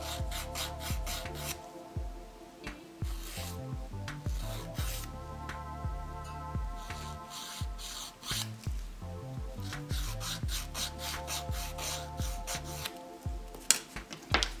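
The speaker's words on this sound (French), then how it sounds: "Je donne une forme arrondie à mon ongle pour éviter de m'accrocher les coins externes." Fine emery nail file rounding the edge of a broken fingernail: steady, rhythmic back-and-forth rasping strokes, close and continuous, with brief pauses between runs.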